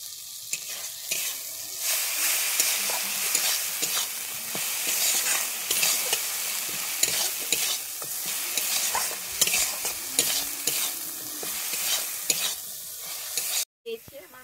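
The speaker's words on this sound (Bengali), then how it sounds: "আমার মশলাটা খুব সুন্দর কষানো হয়ে গেছে" Masala for a restaurant-style egg curry sizzles and fries in a pan while a spoon stirs and scrapes it steadily, close and continuous, with brief pauses and no talking.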